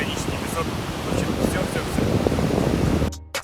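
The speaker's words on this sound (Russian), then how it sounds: "Волны, пляж, хорошее настроение, вулканический песок." Ocean waves on the volcanic-sand surf beach at Canggu, Bali, roar as a continuous, fairly loud wash of surf mixed with wind buffeting the microphone, then cut off abruptly near the end.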